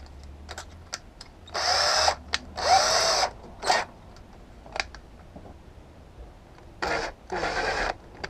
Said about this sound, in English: taking out a hole that's just a little bit bigger, because the drill bit will grab and draw the thing straight down